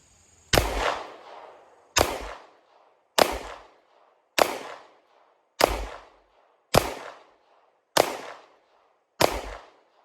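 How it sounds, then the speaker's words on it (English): Eight single shots from a Hi Point C9 pistol fired at an outdoor range ring out at an even pace, each a sharp loud crack with a short decaying echo, with no talking between them. "We're gonna go ahead and put 8 more shots down range."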